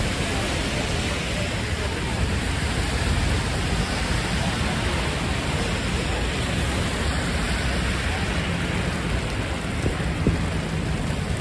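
A steady downpour of heavy rain in New York City during flash flooding keeps up a thick, continuous roar of drops, loud and even from start to finish.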